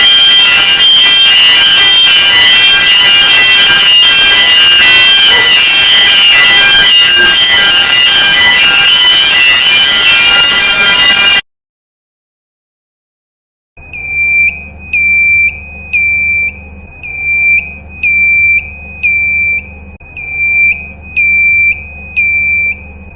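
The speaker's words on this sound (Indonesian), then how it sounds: "Alarm ini berupa suara alarm yang berbeda dari alarm yang lain dan berbunyi terus-menerus" A shrill ship engine room alarm rings continuously, then after a brief silence returns as a repeating pulsed beeping in regular bursts, loud and close.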